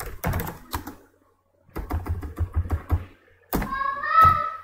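Typing on a computer keyboard in short bursts of crisp key taps, close and fairly loud, with a brief pause between runs.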